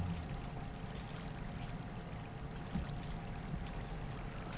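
A bucket of water placed in Minecraft gives a steady, low flowing, pouring wash that runs through the whole stretch at moderate level, with a slight bump near the middle.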